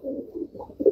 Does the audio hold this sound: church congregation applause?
no